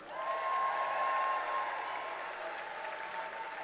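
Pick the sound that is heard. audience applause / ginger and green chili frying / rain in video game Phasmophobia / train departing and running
audience applause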